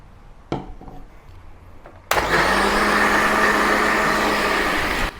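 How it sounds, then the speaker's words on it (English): After a couple of faint knocks, a kitchen blender roars to life, loudly and steadily whirring a Malaysian ayam percik spice paste of softened dried chilies and other ingredients with a little water, the motor running evenly for about three seconds. "Blend these ingredients until it becomes a smooth paste."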